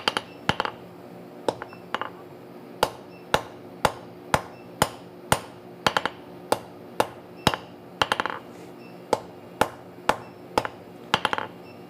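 A hammer strikes hot steel to forge matching bevels on each side, with sharp ringing blows landing in a steady, roughly even rhythm, loud and close, with brief pauses between strikes.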